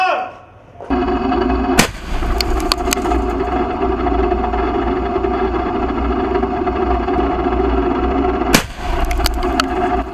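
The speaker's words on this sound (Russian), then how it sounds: "Пара выстрелом по позициям боевиков" Two sharp gunshots crack out at militant positions in Jobar, Syria, one early and one near the end, over a loud, continuous engine-like drone.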